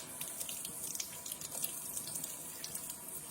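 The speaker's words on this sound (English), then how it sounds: "I rinse off the skin that's left on them" Tap water runs steadily into a sink while thawed green chilies are rinsed under it, with soft splashing and dripping close by and no talking.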